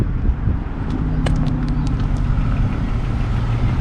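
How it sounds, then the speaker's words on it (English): A 2001 BMW 525i engine idles with a low, steady rumble, quiet and even, with a few faint clicks and ticks over the top. "And I got the car idling right now,"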